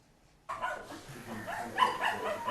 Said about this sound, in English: Sounds like the dog approves as well.